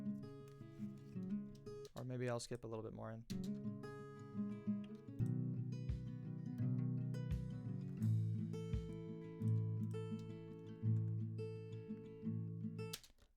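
Recorded acoustic verse guitar played back in a mix, calm strummed chords with a brief scrubbing glitch near the start, while someone speaks briefly over it.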